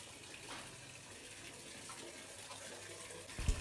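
Water runs in a bathroom used for bathing on a campus at Mayapur, a fairly quiet, steady splashing hiss that continues throughout. A brief knock sounds near the end.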